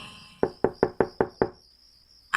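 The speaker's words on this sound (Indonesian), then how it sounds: "ada yang mengetuk pintu kamarku" Six evenly spaced knocks on a bedroom door, sharp and close, followed by quiet with a faint steady hum behind.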